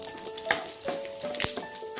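Panch phoron five-spice seeds crackle and sizzle in hot oil, with a few sharp pops over a steady frying hiss.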